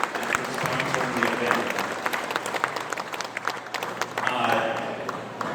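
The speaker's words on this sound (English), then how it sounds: "So give these folks a round of applause" An audience at a Studebaker car club event claps for several seconds with uneven, close handclaps, while voices murmur under the applause.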